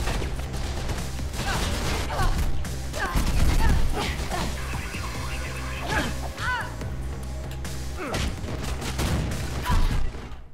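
Gunfire in the video game Mirror's Edge, with dense bursts of shots and impacts crackling over a droning game background, loud and continuous, with brief exclamations from a player in between.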